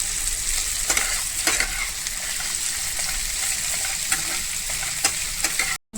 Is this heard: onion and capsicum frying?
yes